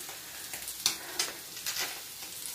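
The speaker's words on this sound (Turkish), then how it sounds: "Şimdi balıklarım ikinci turu pişiyordu." Sardines frying in a pan make a soft, continuous sizzle with scattered small pops and spatters, fairly quiet and heard without talk.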